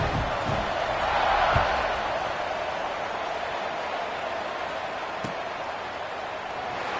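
Football stadium crowd roaring after a scoring drive, a broad, steady wash of distant cheering with a few thumps and a faint voice underneath.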